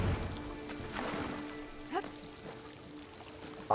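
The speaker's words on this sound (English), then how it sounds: "Water's coming from that vent." Water pours steadily from a vent in Horizon Forbidden West, a soft continuous splashing flow with a few faint drips, fairly quiet throughout.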